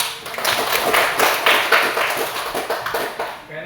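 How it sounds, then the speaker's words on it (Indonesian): A class of seventh-grade pupils claps in a math lesson, giving a brief burst of quick, uneven hand claps that is loud and close. "Tepuk tangan dulu."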